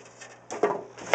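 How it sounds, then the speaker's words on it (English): Several short squeaks and rubs of a styrofoam piece sitting on top of a home fish tank, brief scraping bursts near and fairly quiet. "Styrofoam is squeaky."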